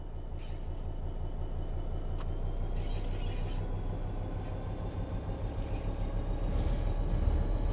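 A train in Train Sim World 3 starting to move under throttle, a steady low engine rumble that builds gradually, with faint hissing bursts above it and no talking.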